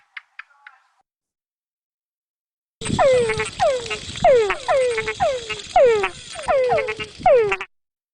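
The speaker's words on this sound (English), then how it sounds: "There was another frog." Frog calls in a natural habitat, a run of repeated croaking calls with a steady, pulsing rhythm, each call sweeping downward, loud and close, after a brief faint chirp and a short pause.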